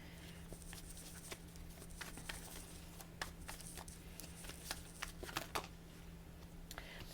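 Tarot cards are shuffled up close, with quick papery riffles and taps in a soft, irregular patter against a low, quiet room hum.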